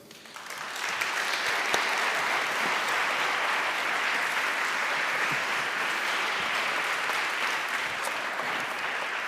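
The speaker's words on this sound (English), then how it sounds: "give your loudest and warmest applause to Evan Greer" An audience at a speaking event breaks into loud, sustained applause that swells in within the first second and holds steady, dense and close, with no talking over it.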